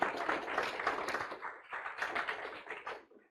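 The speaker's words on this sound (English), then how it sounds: "If we could give them a round of applause, that would be much appreciated" A small audience at a university talk claps after a presentation, light, close-sounding patter at low volume that fades out toward the end.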